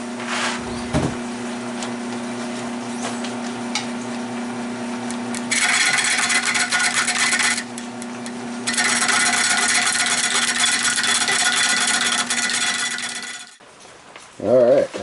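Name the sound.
wood lathe turning a white pine bowl at slow speed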